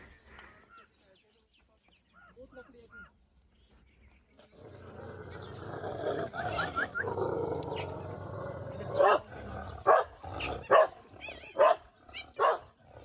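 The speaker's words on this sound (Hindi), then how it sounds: "ये कुत्ता हमारे पीछे करीबन 3 किलोमीटर से आ रहा है।" A dog trailing walkers on a slippery forest path along the Narmada parikrama route near Mandla barks in several short, fairly close yelps near the end, after quieter footsteps and a stretch of broadband rustling.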